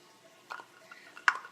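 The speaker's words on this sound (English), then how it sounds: "Garrett, would you put those in our measuring cup?" Two garlic cloves drop into a measuring cup while hummus is being made, giving two light, separate clinks about a second apart against a quiet kitchen background.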